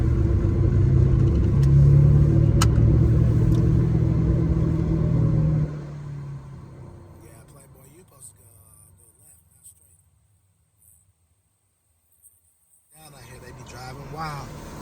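A car drives along a road, a loud steady engine rumble that fades after several seconds into near quiet, with voices talking over it.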